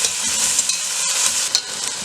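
Chorizo pork meat frying in a pan over a fairly high flame, a loud continuous close sizzle with light crackles and no voices.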